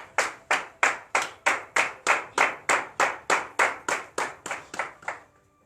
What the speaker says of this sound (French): nous allons nous lever sur nos pieds et donner de vives acclamations à l'Éternel pour tous ses bienfaits